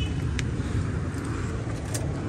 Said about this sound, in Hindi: ये गाड़ी का स्टार्टअप है जी, बिल्कुल स्मूथ साउंड में है गाड़ी।